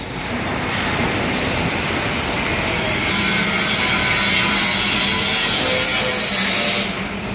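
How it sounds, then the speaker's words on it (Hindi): Construction site noise at a mall building under construction, a dense, continuous roar of machinery and grinding, loud and steady throughout without speech. "कंस्ट्रक्शन बहुत तेज़ी से चल रहा है।"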